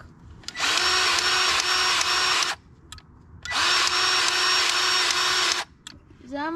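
A Milwaukee M18 cordless grease gun whines in two steady bursts of about two seconds each, pumping grease into a Kubota loader fitting, with brief pauses and a quiet voice between.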